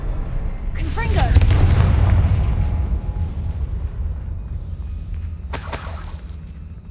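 A Confringo fire spell detonates in the video game Hogwarts Legacy with a loud, close booming blast and rumbling roar that slowly fades, followed by a sharp crackling burst a few seconds later.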